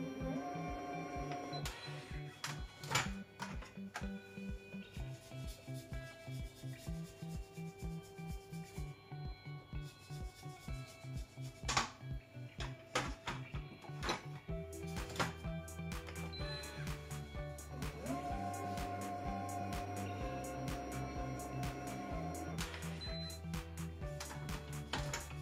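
Moulinex Companion food processor running while it kneads brioche dough, a steady mechanical hum with rhythmic thumping and clicking that continues throughout, with no voices.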